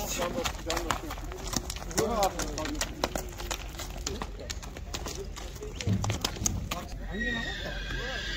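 Horses whinny repeatedly at a Zharkent livestock market, with scattered hoof clip-clops and bird calls around them, while people talk over and between the neighs close to the listener.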